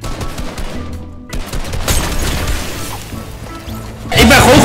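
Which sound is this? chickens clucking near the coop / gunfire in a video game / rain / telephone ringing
gunfire in a video game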